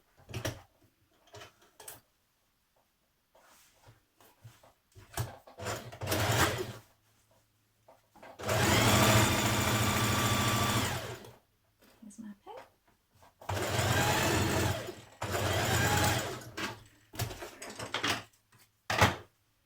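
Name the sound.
sewing machine stitching darts on skirt panels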